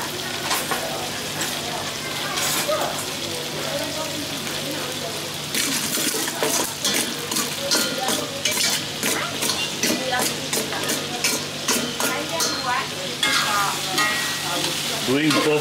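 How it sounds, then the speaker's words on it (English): Garlic and red onion sautéing in a pan for ayam penyet, heard as loud continuous sizzling with quick metallic clinks and scrapes of stirring close by, without speech. "we're going to saute garlic and red onion"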